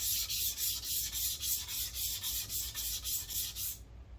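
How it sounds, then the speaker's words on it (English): A guitar's lacquer finish is lightly scuff-sanded by hand in a luthier's shop, heard as a close, rhythmic back-and-forth rasp of about fourteen even strokes that stops abruptly near the end, with no talking. "if I lightly scuff sand this to level it again, I should have a white residue appearing"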